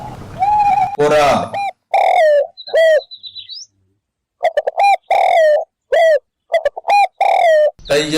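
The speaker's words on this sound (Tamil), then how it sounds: "புறா," Loud, close bird calls in short bursts with gaps, warbling tones and a chirp mixed in, fitting a pigeon's cooing.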